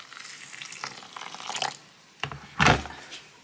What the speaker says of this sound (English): Open a packet, pour on the boiling water.